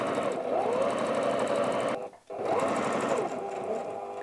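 A home sewing machine stitches fabric for a tablet cover with a fast, steady mechanical whir close by, pausing briefly midway before resuming.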